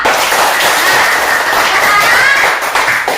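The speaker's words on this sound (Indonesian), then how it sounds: "Tepuk tangan untuk kita semua." Clapping from a group in a classroom lesson, a loud, dense burst of hands that stays steady for a few seconds, with children's voices mixed in.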